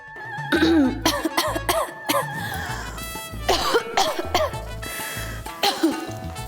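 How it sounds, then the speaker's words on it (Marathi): A woman coughs repeatedly in short harsh bursts, clearing her throat between them, close and loud with no other talk. "खोकतीस का?"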